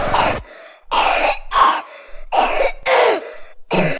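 A cartoon character gives a run of harsh, throaty coughs in an animated short, five or six loud bursts close to the ear with short silent gaps between them.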